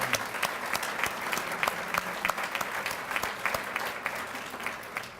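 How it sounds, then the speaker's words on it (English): An audience at a Teacher of the Year ceremony gives a round of applause for the teachers, a dense, steady clatter of many hands clapping throughout with no voices on top. "if we can have one more round of applause for all of these teachers again"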